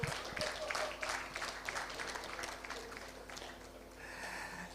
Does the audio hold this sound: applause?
yes